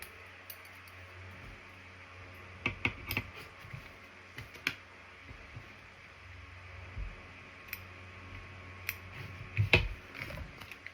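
Scissors trim faux leather and vinyl on a passport holder, a scattering of sharp snips and clicks in small clusters over a quiet background hum.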